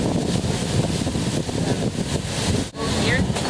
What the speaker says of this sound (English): it is so windy and my dress keeps blowing up